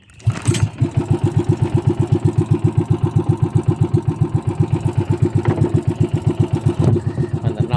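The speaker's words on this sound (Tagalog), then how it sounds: "Pandar lang ako ng makina." A motorcycle engine cranks and catches, then settles into a loud, steady, rapid putter, close by, with a couple of brief rev bumps.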